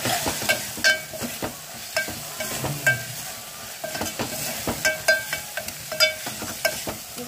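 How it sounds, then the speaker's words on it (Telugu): Masala and tomatoes being stirred in a sizzling pan, a spoon scraping and knocking in a regular rhythm over a continuous low fry, close and fairly loud. "ఇంకా మసాలా అయితే పచ్చివాసన పోయేంత వరకు అయితే ఇంకొక 5 నిమిషాల పాటు తిప్పుకుందాం"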